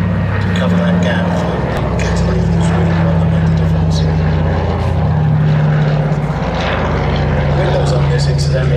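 A Consolidated PBY-5A Catalina flying boat performs a flight display at Duxford, its propeller engines droning steadily with slowly shifting pitch, while a commentator speaks over the sound throughout.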